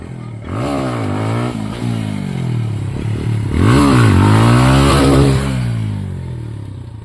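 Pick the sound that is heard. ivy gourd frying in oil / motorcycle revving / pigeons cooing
motorcycle revving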